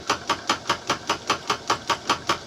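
A lathe turns at its fastest speed on a temporary setup, rattling in a steady fast rhythm of about four clattering knocks per second, close and moderately loud with no talk.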